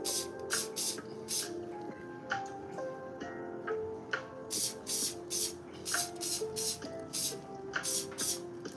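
Short hissing spray bursts, probably an aerosol can used near an open window to clear a glue smell, come in quick irregular clusters at close range over a steady background of low tones.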